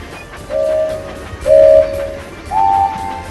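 A video game train running along its tracks, with a low rumble throughout and three sustained horn-like tones, each about half a second long and evenly spaced, fairly loud and close, with no speech.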